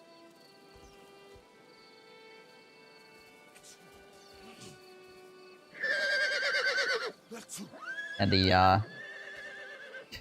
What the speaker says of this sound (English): wargs making horse noises.